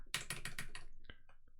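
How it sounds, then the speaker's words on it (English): Rapid run of about five crisp computer keyboard keystrokes, close and clear, followed by a couple of softer, scattered taps as a player ID is typed in. "typing player ID."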